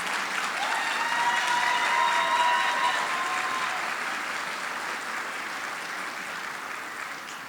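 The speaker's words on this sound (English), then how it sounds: "please give a round of applause for Sylvia Alvarez" Audience applause at the HEA Heart Awards 2023 ceremony: a dense, steady round of clapping that peaks early and slowly tapers off, with no talking over it.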